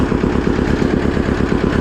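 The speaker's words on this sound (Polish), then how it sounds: "No dobra, traktorek chodzi." An Ursus C-330 tractor engine runs steadily at idle. It makes a loud, close, even chugging pulse with no voices.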